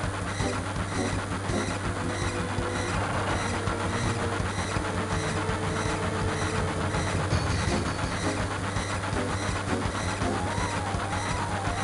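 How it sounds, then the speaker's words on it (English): A train in the 1997 video game Final Fantasy VII rumbles steadily with a continuous rolling drone and rhythmic clatter for about twelve seconds, with no talk. "You're stuck on the train and it's game over."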